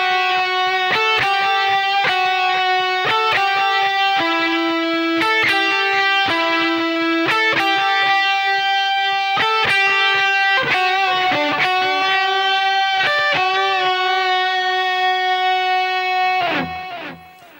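Overdriven electric guitar plays the opening section of the second solo from a song, a steady run of clearly picked lead notes and sustained bends with no talking, ending in a brief fading slide.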